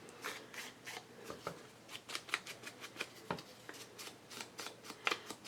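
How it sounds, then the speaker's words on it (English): Paper torn down the middle during a pocket booklet craft, heard as a run of quick, close ripping bursts in an uneven rhythm, soft and crisp with no talking. "I think I'm going to go ahead and tear it down the middle"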